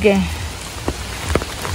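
Steady rain patters on a surface, with a few sharper drips standing out over the even wash of sound.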